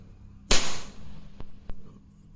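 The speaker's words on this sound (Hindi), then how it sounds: "ये देखिए हम फायर करेंगे।" Precihole NP60 Draco nitro piston air pistol firing a single shot: one sharp, loud crack with a brief hissy tail, followed by two faint mechanical clicks.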